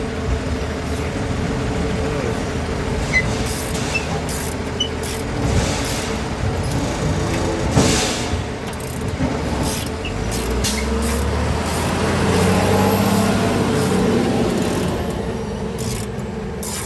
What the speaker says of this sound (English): Neighborhood trash truck.